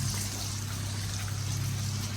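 Water pouring and trickling into a pot of Filipino mung bean stew (munggo) with shrimp and tomato paste, a quiet, steady stream of liquid running continuously without pause.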